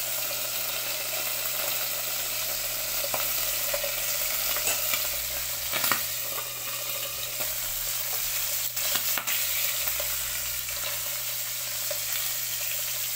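Chicken liver fries in hot oil in a pan, a steady, close sizzle with occasional pops and stirring clatters running for several seconds, no talking.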